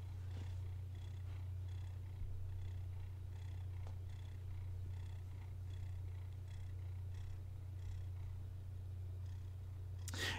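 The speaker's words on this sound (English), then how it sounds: "that's him purring right there" A cat purrs steadily and close, a continuous low rumble throughout with no talking.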